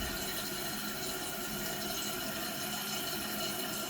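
Toilet tank refilling with water after a new flapper install, a steady broadband rush and hiss of running water that stays loud and even throughout, with no talk.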